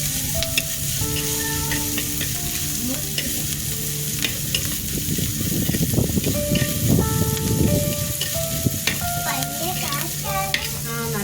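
Food sizzles in a pan while a utensil stirs and scrapes repeatedly, the crackling swelling midway, with faint tonal sounds in the background. Anchovies are being fried for fish curry.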